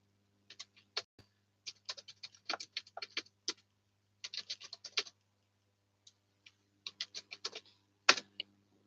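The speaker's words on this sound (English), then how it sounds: "I'm going to type in the box what team I'm going to support" Keys clatter on a computer keyboard in quick irregular bursts of light clicks with short pauses between, close and quiet, one sharper tap near the end, no talking.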